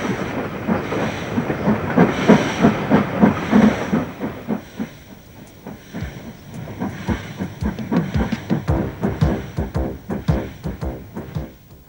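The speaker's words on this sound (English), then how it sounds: "Locals wave goodbye to what seems like the last train on the line." A special train hauled with a locomotive at each end passes on a line thought to be closing, loud rhythmic chuffing and hiss close by, then a steady run of clickety-clack as the wagons roll past.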